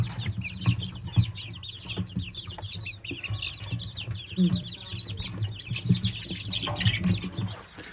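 Three-week-old chicks and chickens in a new enclosure, with high chirping running almost continuously and soft clucks scattered beneath, heard close over a low background rumble.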